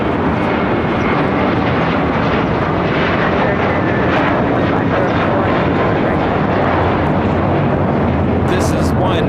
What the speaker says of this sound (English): taking off to JFK, JetBlue Airways 324 on a 9-year-old A321